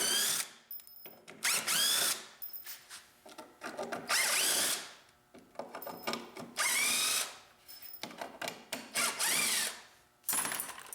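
A power drill backs screws out of a planer stand in the shop, whirring in several loud bursts that ramp up and stop, with short quiet gaps and small clicks between them.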